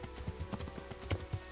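Horse hooves clip-clop in a steady, fairly close rhythm while riding through the medieval world of the Kingdom Come Deliverance video game.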